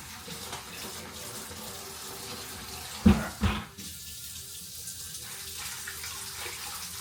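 Hot water runs steadily from a faucet into a deep one-basin kitchen sink, a constant close splashing hiss with a couple of brief louder knocks partway through.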